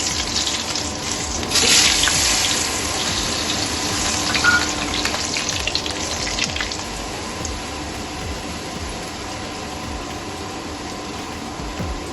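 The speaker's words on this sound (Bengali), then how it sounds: "এবার মশলা মাখা মাছগুলো আস্তে আস্তে তেলে ছেড়ে দিই।" Spiced hilsa fish for jeera ilish slips into hot oil in a pan, a steady hissing sizzle with a louder burst of spattering as the pieces go in, then a continuous crackling fry.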